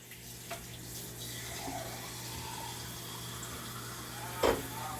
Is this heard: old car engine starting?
no